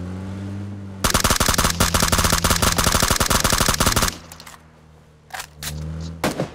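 Gunfire in the mobile battle royale game PUBG New State: a loud, rapid burst of automatic shots for about three seconds, then a few scattered single shots after a short pause.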